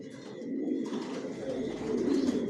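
Racer pigeons in a breeding loft coo in a soft, continuous low murmur, several birds overlapping at moderate distance with faint rustling.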